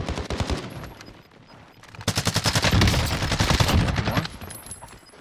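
Rapid automatic gunfire in Call of Duty Warzone, bursts of sharp cracking shots in quick succession, loud and close, with a brief quieter gap before a long sustained volley; faint voices underneath.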